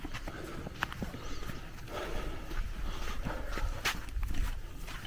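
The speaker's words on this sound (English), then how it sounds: "Bro, I'm hearing footsteps right behind me." Footsteps crunch outdoors at night on a camping trip, an irregular series of close, soft steps on rough ground with faint background noise.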